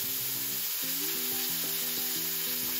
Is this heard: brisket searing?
yes